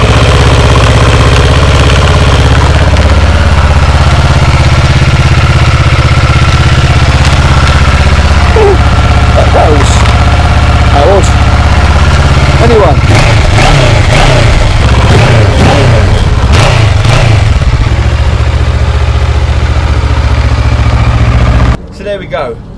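A Kawasaki ER6 650 parallel-twin motorcycle idles steadily and loudly up close with a deep even throb, some clicks and a few revs midway, and the engine cuts off near the end.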